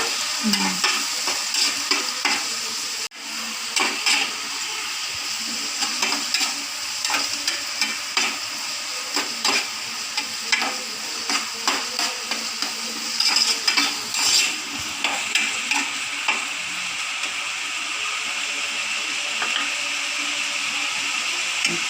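Curry leaves frying in hot oil for a Nellore-style fish curry, giving a steady close sizzle with irregular scraping stirs against the pan throughout, and no talking.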